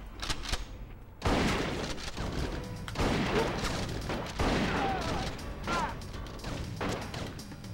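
Enemies shooting at the player in the PS2 video game Bad Boys: Miami Takedown, a dense run of cracking gunshots and impacts layered over loud game action, with a few heavier hits.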